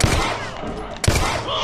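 Gunshots in The Last of Us: Left Behind, two sharp loud shots about a second apart, each with a booming tail, amid game ambience and a little talk.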